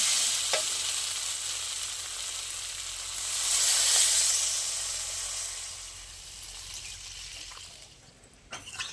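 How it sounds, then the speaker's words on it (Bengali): Water poured into a pan of spiced fish curry with potato and plantain, a steady close hiss and sizzle that swells midway and then settles, with no voices. "এবার আমি জল দিয়ে দেবো"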